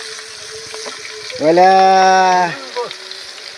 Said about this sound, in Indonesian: Ini menggoreng asin